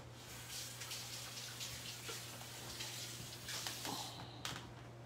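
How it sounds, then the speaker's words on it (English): Hands washed under a running kitchen tap while making strawberry shortcake, a faint steady stream of water with splashing, over a low constant hum in the background. "Wash my hands again here."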